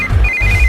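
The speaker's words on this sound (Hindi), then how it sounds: "इस वक्त दीदी का फोन।" A mobile phone ringtone trills briefly, a short high electronic tone over low background noise, in a Hindi-dubbed South Indian film scene.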